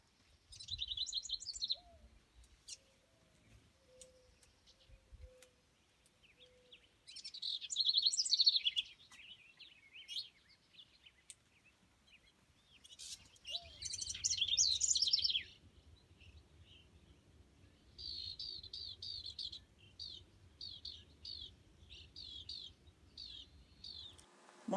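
House wren singing in a backyard, bursts of fast bubbling, chattering song repeated through the clip at moderate distance, with faint low cooing and background rumble between phrases.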